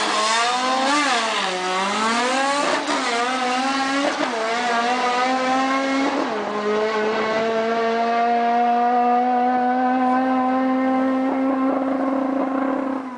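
A Lada street sleeper fitted with a Cosworth Duratec engine revs loudly, with repeated rising and falling sweeps, then holds a sustained high-pitched drone, with no talk.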